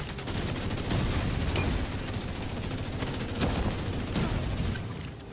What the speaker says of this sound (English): Like a missile strike.